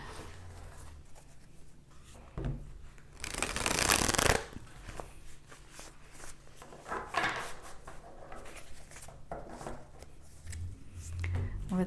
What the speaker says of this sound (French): On va tirer le tarot maintenant.